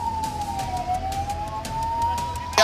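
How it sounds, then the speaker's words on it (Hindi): An ambulance carrying a patient, stuck at the Singhu border during a farmers' protest, sounds a wailing siren that glides slowly up and down in one continuous tone over distant crowd and traffic noise. "वहीं एक मरीज को ले जा रही ये एम्बुलेंस सिंघू बॉर्डर पर फंस गई।"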